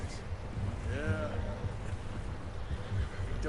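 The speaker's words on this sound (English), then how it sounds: "As you probably notice, I'm always patting the horse." A horse in Red Dead Redemption 2 gives a brief whinny over steady low rumble and wind-like noise, fairly faint and quickly fading.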